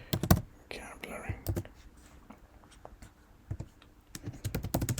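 Fingers tap on a computer keyboard in short clusters of sharp, close clicks separated by quiet pauses, with soft whispering in between.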